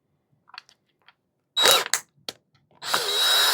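A power drill works on a 3Racing Sakura D6 GA Red RC car chassis, with a short burst of whirring, brief stop-start pulses, then a longer sustained run, loud and close with no talking.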